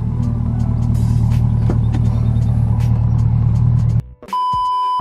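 A C8 Corvette on the road gives a steady, loud low engine drone with road rumble that holds for about four seconds before cutting off abruptly, followed by a brief tonal hum.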